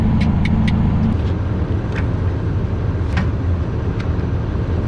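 A tractor's Cummins engine runs at a steady pace, giving a continuous deep rumble close by, with no other sounds over it.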